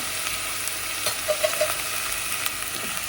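Sliced onions and green chillies fry in a pan with ginger garlic paste and a pinch of salt, giving a steady, even sizzling hiss broken by a few soft clicks of stirring, with no voices.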